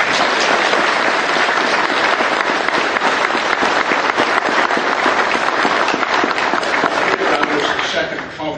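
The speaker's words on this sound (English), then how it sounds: "I think we all should give this wonderful band another round of applause" A banquet audience at a military reunion gives a band sustained, dense applause, loud and continuous throughout, with a murmur of voices mixed in before it thins slightly at the very end.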